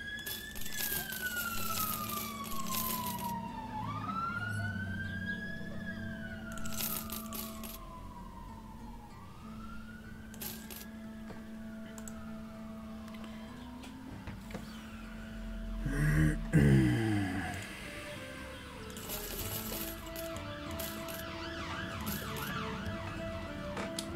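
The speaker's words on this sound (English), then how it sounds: "There's fucking all kinds of sirens going past right now." Emergency vehicle sirens pass outside a window, wailing and rising and falling in long sweeps at a moderate distance, with another siren pattern and a brief traffic rumble joining partway through.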